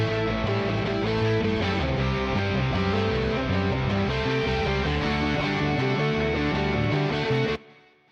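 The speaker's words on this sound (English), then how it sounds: "And I had the power chords." Heavy distorted electric guitar chords chug along with a full band backing, loud and continuous, then stop suddenly at the end.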